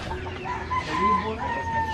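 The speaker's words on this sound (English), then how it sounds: "So this one is the chicken house. They have a chicken." Chickens cluck and a rooster crows in a rural Philippine province chicken house, close and steady over faint background ambience, with no talk over them.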